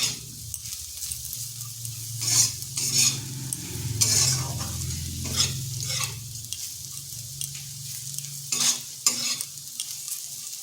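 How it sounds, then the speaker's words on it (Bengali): Bitter gourd with poppy seed stirred in a pan over low heat, a soft steady sizzle under repeated scraping strokes of a spatula against the pan, close and with no talk. "আঁচটা স্লো আঁচে করে 2 থেকে 3 মিনিট এইভাবে নেড়ে নিচ্ছি।"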